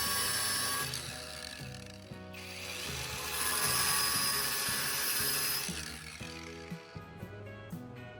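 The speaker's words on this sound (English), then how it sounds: "Back to the angle grinder to trim that small section from the end of the handle." An angle grinder trims a small section off the end of a metal spoon handle, giving a loud, continuous whine with rattling mechanical overtones. It dips briefly in the middle, then quiets in short bursts toward the end.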